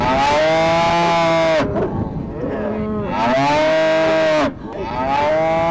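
Cattle moo out along a rural landscape in Sierra Vista, Arizona. Two long, loud, close moos sound one after the other with a short pause between them.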